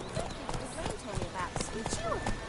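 Hooves of the horse Roach clip-clopping in steady rhythm in a video game, near and clear, with a voice talking over the hoofbeats.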